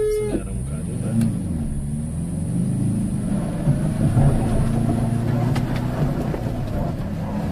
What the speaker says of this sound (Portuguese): você acelera um bocado, ele vai